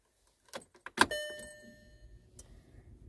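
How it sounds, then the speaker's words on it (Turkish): In a VW Caddy, a key jangles and clicks in the ignition as it is switched on, followed by a faint ringing chime tone that fades out, with a soft click later; no talking. "Yeni sileceklerimizi taktıktan sonra tekrar eski pozisyona getirmek için kontağımızı çalıştırıyoruz"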